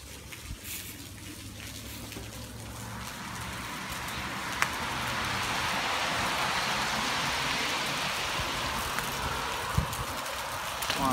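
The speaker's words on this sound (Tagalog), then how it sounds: "Tumutulo yung natutunaw na yelo." Melting ice dripping from above during a cold outdoor ride, a dense patter of drops building into a steady rain-like hiss with a few sharper individual taps.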